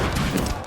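Artillery fire in Napoleon Total War, a loud, booming volley of several cannon shots blending into a dense rumbling barrage.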